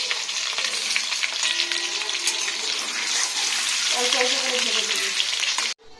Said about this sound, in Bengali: ওই ম্যারিনেট করার মাংসটা আমি চাপিয়ে দিয়েছি শুকনো কড়াতে তেল দিইনি